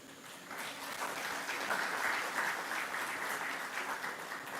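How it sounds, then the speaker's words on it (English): A crowd at a Divali dinner and cultural evening in Mayaro bursts into steady applause, many hands clapping in a full, even wash that swells slightly in the middle and tapers a little at the close. "That deserves a round of applause."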